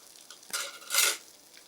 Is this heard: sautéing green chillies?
yes